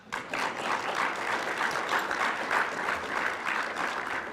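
An audience at a Nashville summit on ending an epidemic breaks into steady applause, a dense wash of clapping that holds at an even level from start to finish with no voices on top.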